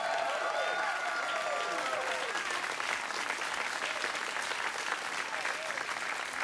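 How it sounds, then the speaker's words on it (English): Studio audience at a late-night television talk show giving continuous, full applause, a thick, even roar of clapping and cheering held at steady loudness throughout. "why you're clapping."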